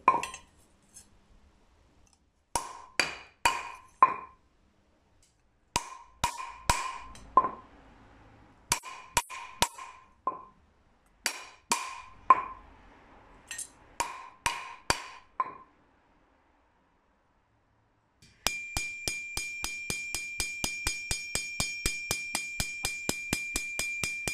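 A bronze blade is straightened with a hand straightening tool, giving sharp metallic clinks in irregular bursts of several strikes with pauses, then a fast, steady run of ringing taps near the end, close and fairly loud.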